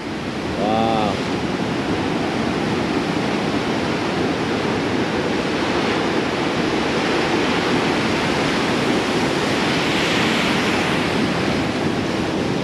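A big ocean wave crashes at Melasti Beach and rolls into a continuous, loud, rumbling roar of surf with some wind buffeting, while a person briefly exclaims near the start.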